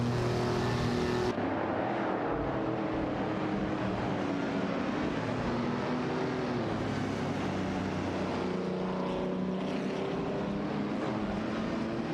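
Racing cars in a video game, including a Triumph TR6 and a Porsche 901/64 battling for position, make a steady, continuous engine roar with overlapping tones throughout, loud and unbroken, with no talk.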